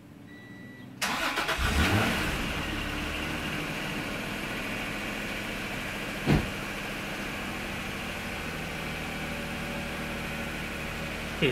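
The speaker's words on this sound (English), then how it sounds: "Let's start up the car" A Honda NSX engine cranks and catches with a brief rising rev, then settles into a steady, even idle that hums on with no talk over it.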